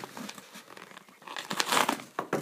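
A mail package holding vintage Mickey Mantle baseball cards is cut open, giving close, faint crinkling and tearing of packaging in quick irregular bursts, growing busier toward the end, with no talking.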